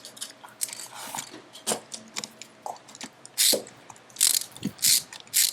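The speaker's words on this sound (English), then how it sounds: "we're going to tighten our 5/16, I believe it, no, our 8mm nuts here to make sure we're tight." A ratchet tightens 8mm nuts on a bolted mount for a solar energy storage setup, producing close, loud bursts of rapid clicking in uneven spurts with short pauses between strokes.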